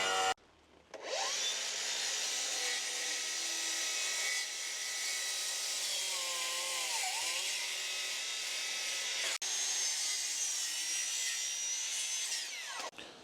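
Power saw steadily cutting through timber support posts for a raised decking platform, a loud continuous whine with shifting pitch lasting most of the clip, starting and stopping abruptly at the ends.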